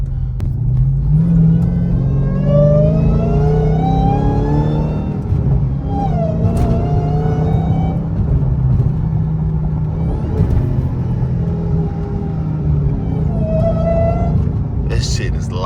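A Dodge Hellcat fitted with a cold air intake rumbles loudly from inside the cabin, its engine rising through several climbing revs and gear changes over a constant heavy drone.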